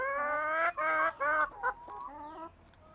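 Chickens on a rural poultry farm give drawn-out, rising clucking calls, several loud close squawks in a row fading to softer clucks.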